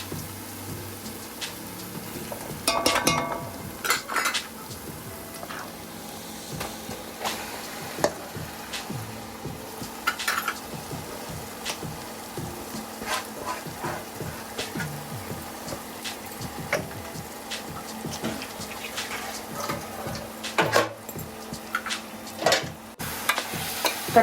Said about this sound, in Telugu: ఇప్పుడు కలిపిన చికెన్ వేసుకోవాలి.